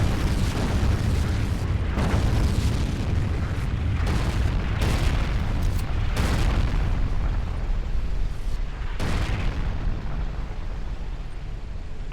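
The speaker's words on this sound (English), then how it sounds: "Now the artillery is ranging in on me." Artillery shells explode in Forgotten Hope 2 on the Gazala map, a steady barrage of loud booms and bursts landing one after another, some near and some farther off, over a constant rumbling din with no voices.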